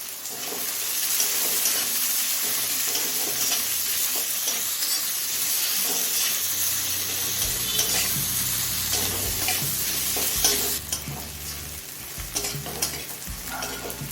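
Onion frying in oil in a pan, a steady broadband sizzle with stirring scrapes throughout, fairly loud and close, with a brief louder burst near the middle; no talking.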